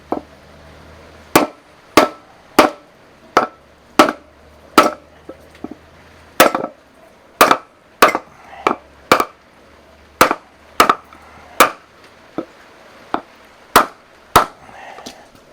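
A hammer strikes a metal part about twenty times in a steady, slightly uneven rhythm, each blow a sharp, loud, close metallic crack, with quiet pauses between hits.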